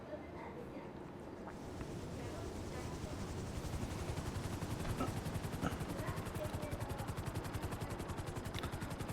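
A Sparrow helicopter in GTA Online whirs with a steady, rapid rotor chop that builds in loudness and stays loud and close throughout.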